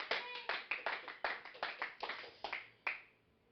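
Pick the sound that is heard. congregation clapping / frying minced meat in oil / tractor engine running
congregation clapping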